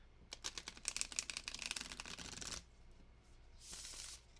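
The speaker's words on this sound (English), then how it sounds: "let's give this a good shuffle" Tarot cards shuffled by hand for a reading, a rapid run of crisp riffling clicks and flutters, then a pause and a softer brushing bridge of cards settling, close and alone.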